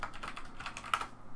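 Fast typing on a worn computer keyboard, a quick run of soft clicking keystrokes close by, with no voices.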